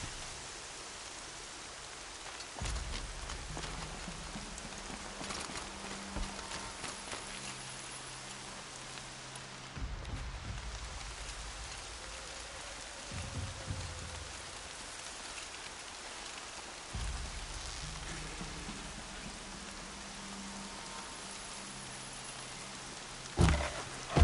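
Steady rain pours down in the video game Horizon Zero Dawn, a dense, even hiss of drops on surfaces with low rumbling swells underneath and no voices.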